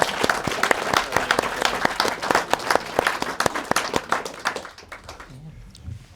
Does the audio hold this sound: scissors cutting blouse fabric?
no